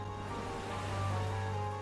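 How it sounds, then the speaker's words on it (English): A big animated storm at island docks, steady roar of wind and crashing waves with a low rumble, continuous and fairly loud, no voices. "big storm raged across the island"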